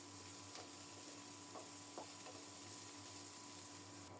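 Chopped young green chillies frying in a hot pan, giving a steady low sizzle with a few soft stirring scrapes, heard alone at moderate distance.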